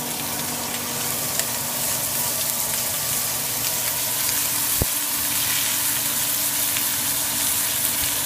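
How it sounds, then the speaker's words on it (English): Thick pork chops sear in a pan with oil and butter, giving a loud, continuous sizzle and crackle, with one brief sharp clack midway. "We're going to coat it all in oil lightly, and then we're going to go ahead and sear them up"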